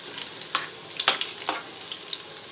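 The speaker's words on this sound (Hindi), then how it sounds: "हरी मिर्चों के चटकने की आवाज़ आपको आ रही होगी" Green chilies crackling and sizzling in hot oil for a dal tempering, with sharp pops scattered irregularly over a steady frying hiss, close up.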